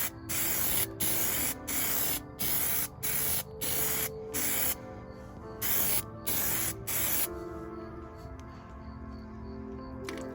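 An aerosol can sprays a heavy coat of tint onto a car side marker light in a series of short, even hissing bursts with brief gaps between, close and clear, ending in quiet.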